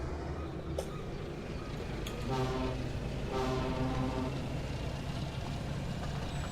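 A diesel locomotive horn in the Wonders of Sodor video game gives two steady honks, the first shorter, over a constant rumble of train and game background noise.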